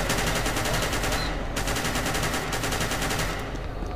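Rapid automatic gunfire in SCP: Secret Laboratory, loud close bursts of densely repeated shots running almost continuously with brief gaps.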